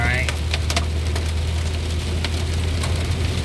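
Steady rain drums on a car driving over the new Causeway bridge overpass in Metairie during a thunderstorm, a constant broadband hiss with scattered drop hits over a low road rumble.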